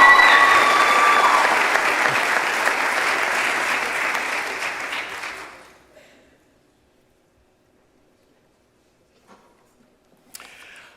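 A commencement audience breaks into loud, dense applause that holds steady for several seconds, then fades out into near silence, followed by a few faint scattered sounds.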